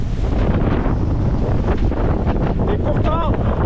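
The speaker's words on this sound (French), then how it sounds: "il n'y a que 20 nœuds de vent." A sailboat motors straight into a 20-knot headwind through big, deep waves, with heavy wind buffeting the microphone, water rushing and slapping against the hull, and a brief voice near the end.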